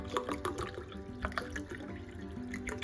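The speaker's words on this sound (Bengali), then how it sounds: "এখন এর মধ্যে আমি দিয়ে দিলাম হচ্ছে ঠান্ডা জল" Cold water poured into a detox drink of turmeric, ginger, black cumin, pepper and white cumin, a soft close trickle with scattered drips and splashes.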